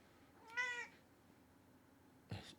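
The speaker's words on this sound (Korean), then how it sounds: "저희 고양이도 대박이랍니다." Domestic cat meowing indoors, one clear drawn-out meow followed about two seconds later by a shorter second call, both close and fairly quiet.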